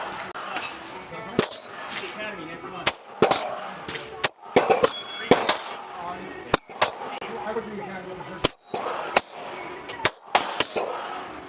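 Custom Glock 45 pistol fired one-handed at a shooting range: a rapid string of sharp, loud, close cracks at irregular intervals, with brief gaps and some voice between shots.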